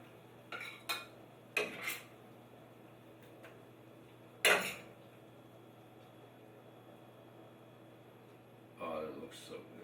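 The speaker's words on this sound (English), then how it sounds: "Take a nice spoonful of this pasta." Pasta is spooned onto a plate: a few sharp clinks of a metal spoon against the dish, spaced apart with a quiet gap between, close by, with a voice talking briefly.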